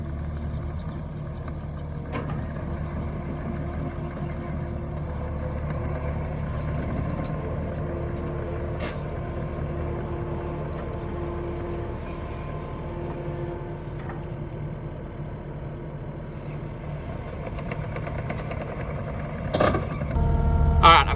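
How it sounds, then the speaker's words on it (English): A skid steer drives onto a tilt trailer with a steady low engine hum and rumble, a faint whine partway through and a louder clunk of movement near the end. "let's show you how the skid steer looks going on here"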